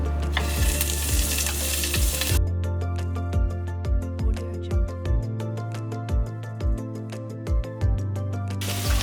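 Zucchini and cauliflower tikki patties frying in a little olive oil on a pan, a constant close sizzle with a regular run of soft thuds and taps as they are set down, music playing throughout.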